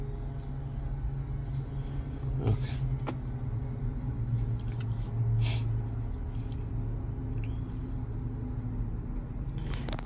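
A car engine runs at idle, a steady low hum and rumble that continues unchanged, with a few faint clicks and knocks over it.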